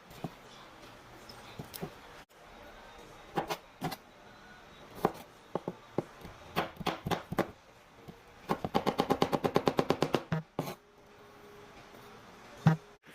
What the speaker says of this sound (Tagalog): Maghiwa lang tayo ng sibuyas and bawang.